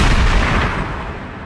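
A single close blast from a sawed-off hunting shotgun, a loud boom that decays quickly into a short fading tail.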